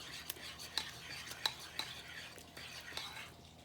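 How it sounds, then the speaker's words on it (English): A utensil stirs tomato soup cake batter in a bowl after eggs are added, making a faint, soft scraping with light clinks against the bowl, repeated several times at close range. "And mix that all up."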